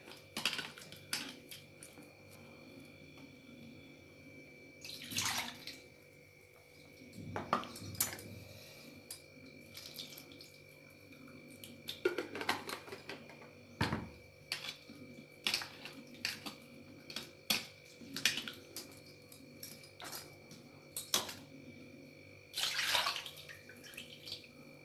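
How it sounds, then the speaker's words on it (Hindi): Strawberries rinsed under running water in a kitchen, with intermittent splashing, clinks and rubbing against a dish, moderately close and with no talking. "अच्छे से धो लेंगे"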